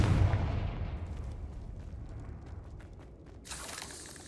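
The Confringo blasting spell explodes in the video game Hogwarts Legacy with a deep booming rumble that fades away, then a burst of crackling debris and noise near the end.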